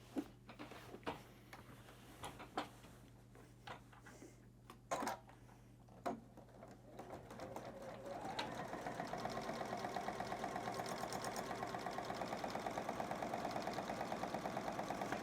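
A sewing machine stitches through a quilt, starting with a few scattered handling bumps and then settling at about 8 seconds into a steady, fast, close mechanical whir and rattle that carries on alone to the end.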